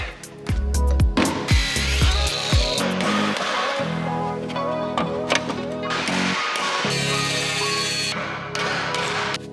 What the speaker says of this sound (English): So just keep hammering and maybe some grinding